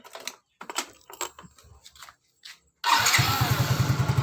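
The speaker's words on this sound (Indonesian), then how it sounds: "Kemudian kita coba nyalakan mesin." A Yamaha Mio J motorcycle engine starts after a stretch of quiet clicks and handling sounds, then settles into a loud, steady, close-up idle with a rhythmic low pulse.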